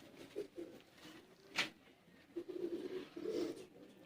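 Kamagar pigeons cooing softly nearby in a few low, murmuring bursts, with one sharp brief noise in between and no talking.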